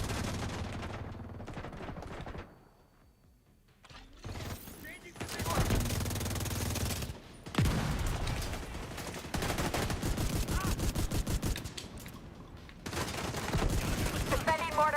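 Mortar fire and gunfire in the shooter game The Division 2: repeated heavy blasts and rattling shots in dense bursts, with brief lulls between volleys.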